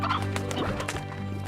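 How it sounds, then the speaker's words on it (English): Stony hens in the video game Slime Rancher cluck in a short, close burst of throaty, squawking calls over a steady game hum. "We got stony hens"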